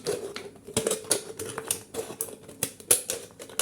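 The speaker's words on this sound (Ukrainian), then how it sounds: "З банки я вирізаю довгими ножицями, ось такими, щоб мені зручніше було не рвати її, а різати." Long scissors snip through a thin tin can, giving a series of sharp, irregular metallic clicks and crunches close by, with no voices.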